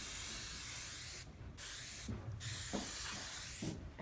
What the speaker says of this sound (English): now we're going to spray the Scotch Guard on top of the wax